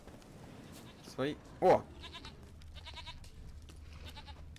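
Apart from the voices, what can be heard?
goat bleating in video game The Witcher 3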